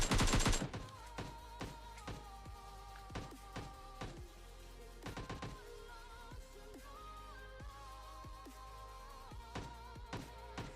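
Rapid gunfire bursts in PUBG Mobile Lite, sharp and repeated in uneven clusters over a low in-game hum with faint tonal game sounds between the shots.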